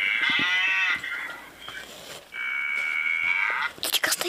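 A cow moos twice in long, drawn-out tonal calls with a short pause between, fairly close, while people talk quietly and some clatter sounds near the end.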